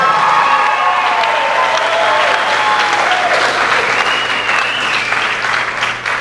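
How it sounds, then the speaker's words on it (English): Steady applause from a crowd, sustained for several seconds with some whistling or cheering mixed in, fading slightly near the end. "So take clap for Lizzie Smith."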